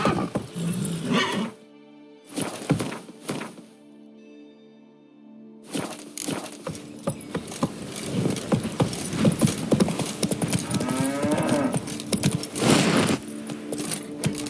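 Hooves clip-clop as Roach the horse trots in The Witcher 3: Wild Hunt. After a brief pause filled by a soft sustained tone, the quick, steady hoofbeats resume at close range.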